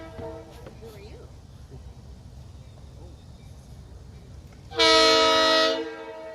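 The SGLR dinner train sounds its horn in the dark: a single loud, sustained blast of about a second rises sharply over a quiet, rumbling ambience, then cuts off.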